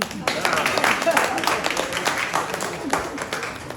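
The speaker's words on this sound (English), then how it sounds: "You can clap hands for me." An audience at a media briefing claps hands, a scattered patter of applause running steadily beneath a speaker's voice.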